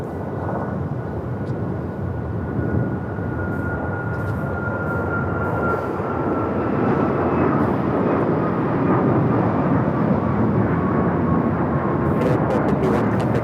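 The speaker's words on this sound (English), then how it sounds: "This is United Airlines 1251 taking off to Cleveland, Ohio on the MAX 8." A United Airlines Boeing 737 MAX 8 takes off from Los Angeles airport, its engines a steady broadband roar that swells gradually over the clip, heard from a distance and without speech.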